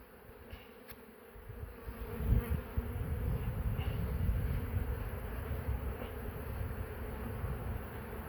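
Honey bees buzz inside a beehive in a continuous low, droning hum that swells slightly louder after the first couple of seconds, steady and close, with a few faint knocks and no talking.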